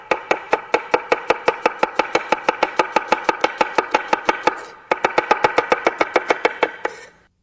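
A kitchen knife slices an onion on a cutting board in a fast, steady rhythm of crisp, close chops, pausing briefly midway before resuming, with no talking.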